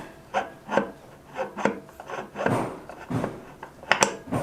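A hand file rasps down a part for the burr chamber of a CF64V coffee grinder, about a dozen short, gritty strokes in an uneven rhythm, close and clear with no talk.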